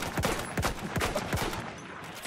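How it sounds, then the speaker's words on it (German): Rapid gunfire in the Battlefield 1 shooter game: a fast, irregular run of sharp, loud shots and bursts, close and punchy, rattling on throughout with no voices over it. "Bei mir schießen's."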